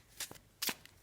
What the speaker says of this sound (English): Shuffle and put down the cards.